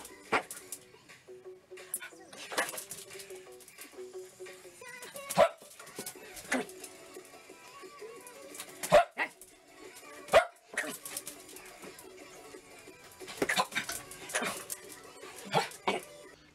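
A dog barks and yips in short bursts in a workshop where a workbench is being built, with a person talking at intervals over the barking.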